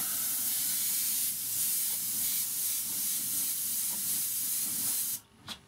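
An airbrush spraying watery carmine red water-based paint gives a steady, close airy hiss that runs unbroken for about five seconds and then cuts off, followed by a short puff.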